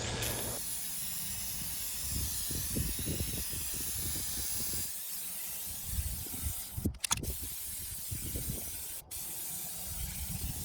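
Fluid Film rust protection sprays from an aerosol onto the bare metal underside of a car in a steady, close hiss, broken by a few brief pauses and sharp clicks of the nozzle.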